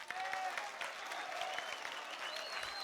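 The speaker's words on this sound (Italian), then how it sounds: "Chiamo qui sul palco con noi Marco De Iosso, un grande applauso." Audience applause at a job fair conference session in Cagliari, Sardinia, a steady patter of many hands clapping indoors, with a few faint voices and whistles mixed in.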